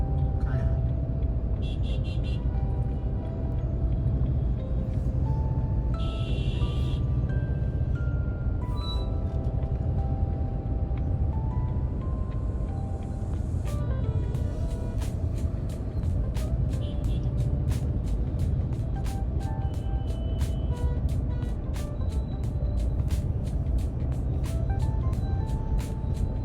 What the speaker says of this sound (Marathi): इथंच एवढा आता ट्रॅफिक झालं आहे